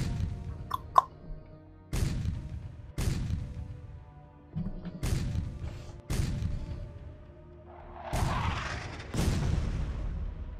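Artillery fire in the strategy game SuperPower 2, with a series of heavy booms at steady intervals of about a second, each followed by a rumbling decay, plus one rushing blast near the end.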